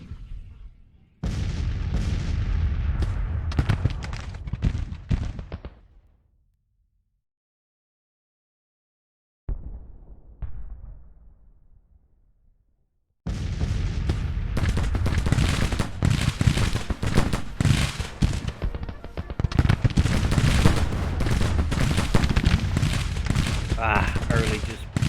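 Musket volleys crackle through a Civil War video game battle, dense ragged gunfire rolling loudly for several seconds, breaking into silence, then resuming as sustained heavy firing to the end.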